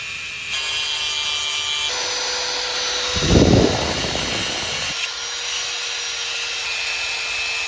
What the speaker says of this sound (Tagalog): Gagamit po tayo ng grinder. Ang bala natin, cutting disc or yung mga pamputol ng bakal.